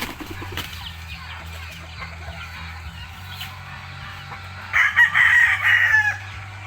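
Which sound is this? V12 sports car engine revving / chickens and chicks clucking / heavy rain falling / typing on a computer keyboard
chickens and chicks clucking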